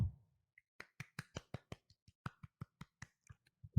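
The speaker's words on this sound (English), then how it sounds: "That's just a little golf clap for you guys." Soft, unhurried golf clap from a few hands for guests on a golf show, about a dozen separate crisp claps in a loose, steady rhythm, close and quiet with silence between them.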